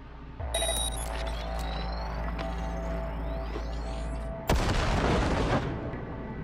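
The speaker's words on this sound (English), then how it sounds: "Now, detonate the grenade." Grenade detonation in Cyberpunk 2077: a low rumbling game soundscape with electronic tones, then a sudden loud blast past the midpoint that rolls into a noisy decaying roar.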